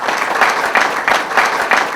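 Audience applause honoring an Armenian weightlifting legend, dense and steady clapping with a few swells in intensity, loud and close, with no talk over it.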